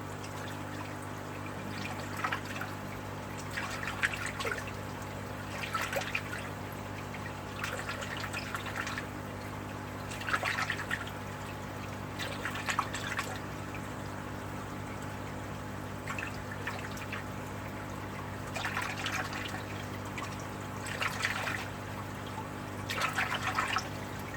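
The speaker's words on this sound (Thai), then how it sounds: "เรา ก็จับตรงนี้ให้แน่นนะครับ แล้วก็เขย่าที่น้ำเลยครับ" Eggs held firmly in a hand are shaken in water, giving bursts of sloshing and dripping that come and go over a steady low hum.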